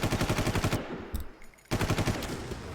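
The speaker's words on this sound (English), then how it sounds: "the people in that garage over there are the ones shooting at me" Enemy gunfire from a garage in the 2004 Far Cry video game: rapid, loud automatic bursts with a short lull in the middle before the firing resumes.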